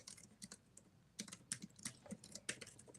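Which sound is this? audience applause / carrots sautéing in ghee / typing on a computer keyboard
typing on a computer keyboard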